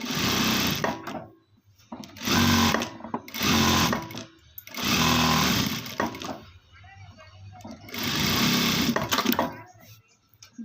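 A sewing machine stitching along fabric edges, running in four loud bursts of rapid whirring separated by short pauses, with a voice speaking between the runs.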